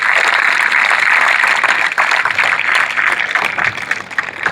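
Audience clapping at a sports festival gathering: dense, loud, steady applause filling the whole stretch, with no pauses or voices over it.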